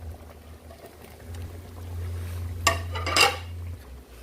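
String beans are stirred in a cooking pan over a low, steady hum. Two clear metallic clanks of a utensil against the pan ring out near the end, with no talking.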